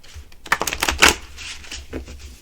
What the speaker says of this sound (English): So we're going to shuffle like this.